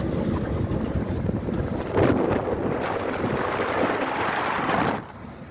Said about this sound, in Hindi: बाहर हवा काफ़ी तेज़ चल रही है